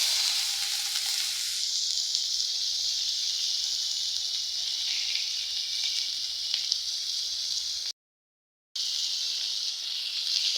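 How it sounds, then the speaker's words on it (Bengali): Green chilies and chopped onion sizzle steadily in hot oil in a wok alongside fried tilapia, a continuous close hiss with a brief cut of silence near the end. "এখন আমি এগুলা দিয়ে দেবো কড়াইতে।"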